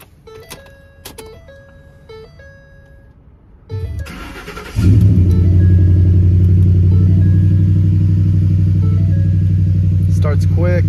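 A 2010 Ford F-150 pickup cranks and starts quickly, its engine catching at about four seconds and settling into a loud, steady idle rumble heard from inside the cab, after some earlier soft clicks and chimes.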